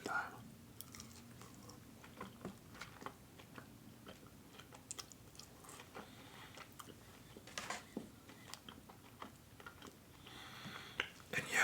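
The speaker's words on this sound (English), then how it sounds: "when I bite into a fry, there's no crunch whatsoever" Soft close-up chewing and biting of Wingstop fries that lack any crunch, with scattered mouth clicks and small bites spread across a quiet background, plus some low murmured voice.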